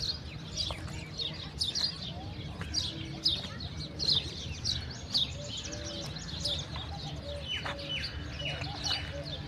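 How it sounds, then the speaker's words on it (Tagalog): Many birds calling at a scenic outdoor spot: chirps, tweets and a few coos overlap in a busy, fairly close chorus above a low steady background rumble. "Ang daming mga ibon."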